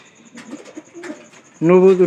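Young pigeons with newly hatched chicks: a loud, close cooing call bursts in near the end after quieter rustling and faint chirps.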